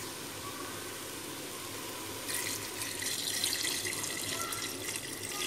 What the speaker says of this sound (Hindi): ये देखिए 2 ग्लास मैंने पानी ऐड कर दिया है।